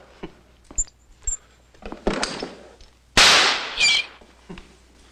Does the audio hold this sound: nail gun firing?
yes